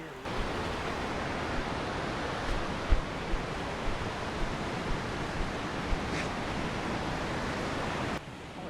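Bull Sluice, a whitewater rapid on Section 3.5 of the Chattooga River, roars in a loud, continuous rush of churning water heard close by, with faint knocks over it before the sound cuts off near the end.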